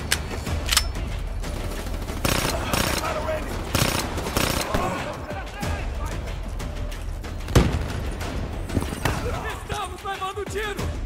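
Gunfire rattles through a Call of Duty: Black Ops 3 story mission, with sharp bursts and single shots scattered over a dense battle mix, while voices speak over the action.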